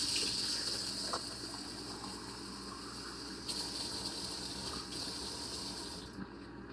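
Lukewarm water flowing steadily for peasant bread dough, a continuous gushing pour that holds fairly constant for several seconds before stopping near the end.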